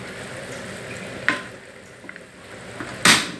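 Ginger, garlic and green chili paste sizzles steadily in a hot pan for chicken fry, with a couple of sharp stirring scrapes and clatters standing out near the start and end.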